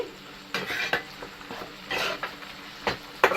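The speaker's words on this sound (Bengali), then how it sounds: "আমি এখানে টমেটো কুচি করে রেখেছি দুটো সেটা দিয়ে দিচ্ছি টমেটো দিয়ে আমি ভালো করে মিক্স করে নিচ্ছি" A spoon scrapes and clinks against a pan while chopped tomato is stirred into ginger-garlic-chili paste for mushroom kosha, several separate scraping strokes over a faint sizzle, close and fairly loud.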